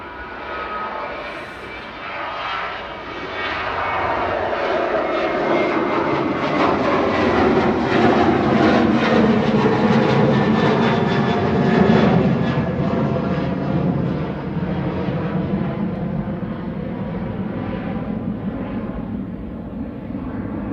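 A Ryanair Boeing 737-800 jet bound for Milan moves at Manchester Airport, its engine rumble building to a loud, sustained roar with shifting tones before easing slightly.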